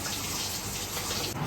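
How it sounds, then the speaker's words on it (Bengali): Water pours steadily into a pot set on an induction cooker while a vegetarian jackfruit biryani is being prepared, a continuous close splashing rush with no speech. "এইবারে ইন্ডাকশনে বসিয়ে দিলাম জল"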